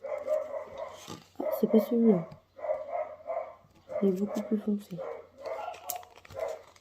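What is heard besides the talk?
dog barking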